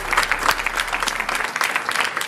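An audience claps loudly and steadily at a seminar event, dense applause from a crowded room with no talking over it.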